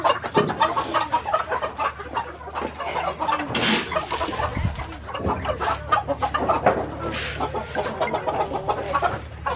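Chickens and a rooster cluck and squawk excitedly while being fed scattered feed on the ground, a busy, close, continuous chorus of overlapping calls with occasional louder bursts.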